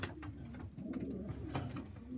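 Pigeon of an unidentified breed cooing in a loft, a low repeated throaty coo rolling on steadily at close range, with faint background bird sounds and no talking.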